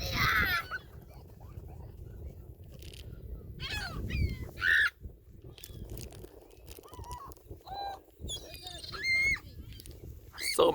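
A huge flock of seagulls over Millerton Lake sends up a chorus of shrill cries and squawks, some near and some far, with people talking throughout.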